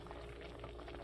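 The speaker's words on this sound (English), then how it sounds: "Tomatoes are boiling." A pot of tomatoes for vegetable soup boiling steadily, a continuous dense bubbling and gurgling close up, heard alone with no talk.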